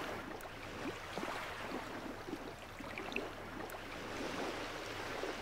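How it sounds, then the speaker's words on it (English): A looping sea ambience plays in game audio software: soft, continuous washing water with gentle lapping and splashing, fairly quiet and even, with no voices. "Sounds like the sea to me."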